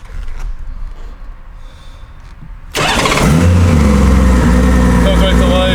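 A 1989 Honda GL1500/6 Goldwing motorcycle engine cranks and catches suddenly after a quiet stretch of ambient noise, then settles into a loud, steady idle with a smooth low rumble close by.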